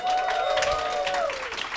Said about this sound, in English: I didn't have to ask them for applause. They just applaud you guys.